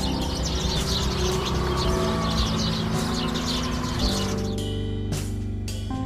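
Many small birds chirp and twitter continuously and loudly over a steady outdoor background, with sharper individual calls standing out toward the end.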